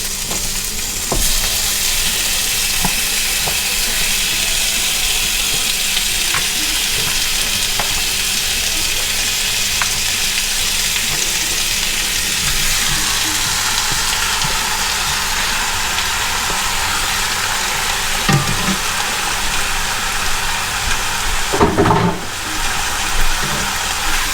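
Chicken wings for honey fire BBQ wings sear in a hot pan, giving a loud, steady sizzle and crackle that lasts throughout, with occasional stirring clatter near the end.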